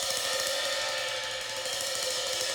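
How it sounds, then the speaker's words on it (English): A Straight Edge Samples jazz drum sample played as a free-jazz aleatoric effect: a dense, steady, unmetered wash of cymbal-like shimmer over scattered low rattles, with no voices. "in straight edge jazz drums, you have this kind of aleatoric effect"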